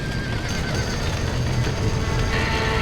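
A horse whinnies amid dense, noisy game ambience in Red Dead Redemption on Nintendo Switch, with a constant roar and clatter continuing throughout.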